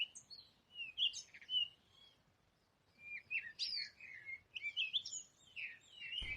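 A clever red parrot perched on a high palace balcony chirps in bright, quick bursts, with short pauses between, clear and alone.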